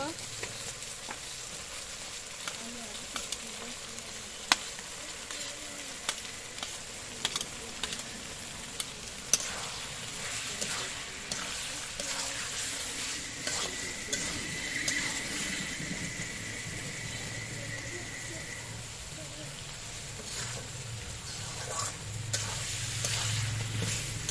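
Fried chicken pieces sizzle in cooked-down masala while being stirred, a steady low hiss broken by scraping and small clatters of the spoon, with brief faint noises in the background and no clear talking.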